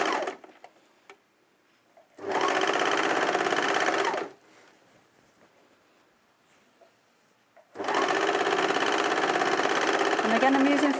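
A sewing machine stitches two pieces of cotton canvas together in two loud, steady runs of about two and four seconds, separated by a quiet pause with faint handling noise.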